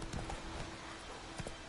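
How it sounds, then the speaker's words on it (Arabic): Horse hooves clip-clop in a steady, fairly quiet rhythm while riding through The Witcher 3, with a few sharper steps standing out over a soft background bed. "يا اخي حلو التمشية في اللعبة دي انها تاخذ حصان"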